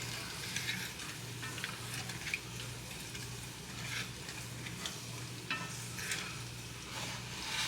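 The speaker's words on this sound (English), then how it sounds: "Start stirring. It don't take long that to start thickening up." A flour and grease roux stirred in a pan for gravy, giving a steady, close scraping and stirring sound over a soft sizzle, with a low hum running underneath throughout.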